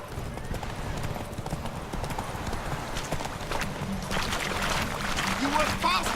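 Horse hooves clip-clop at a quick gallop in the video game The Witcher 3: Wild Hunt, a steady rhythmic pounding beneath speech, with a brief whinny-like sound toward the end.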